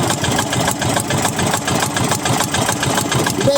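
A new boat engine idles steadily and loudly at close range, a constant mid-pitched thrum with a regular pulsing beat and no voices over it.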